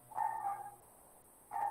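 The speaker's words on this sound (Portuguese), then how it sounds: "o cachorrinho aqui da vizinha está só latindo" A neighbour's small dog barks twice from a distance, two brief yaps separated by a pause of about a second in an otherwise quiet room.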